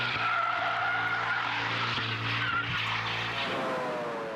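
A Formula 1 car with traction control switched off skids hard, tires squealing continuously over a loud, droning engine note that shifts in pitch toward the end, close and dominant.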